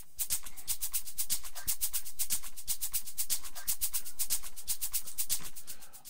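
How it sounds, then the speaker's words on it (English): Shakers in an FL Studio Afro House beat tick in a fast, even, bright pattern, playing alone and steady throughout before cutting off at the end. "So I added a couple of shakers here"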